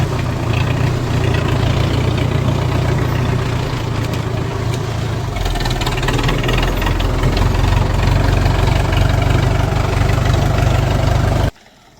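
A tractor fitted with narrow-set tyres idles loudly and close by in a field during crop spraying work, a steady low rumble with a rhythmic chug that cuts off abruptly at the end.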